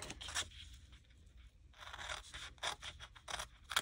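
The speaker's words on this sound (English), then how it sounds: "So I'm going to cut this bottom piece" Scissors cutting through card to make a fold-over gift box, several close, quiet snipping and crisp rasping strokes with short pauses between cuts.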